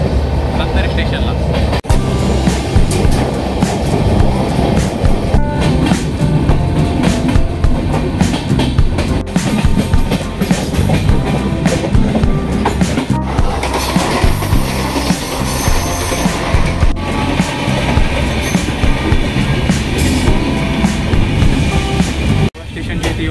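A passenger train runs on the Thane to Ratnagiri route, with loud, constant rumble and wheel clatter filling the whole stretch. Voices sometimes rise over the noise.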